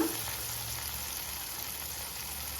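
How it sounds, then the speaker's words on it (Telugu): Sliced onions sizzle in hot oil in a pan as they fry until golden for a peanut chutney, a steady, even hiss with no talking. "గోల్డెన్ కలర్ వచ్చేంత వరకు వేయించుకుంటాము."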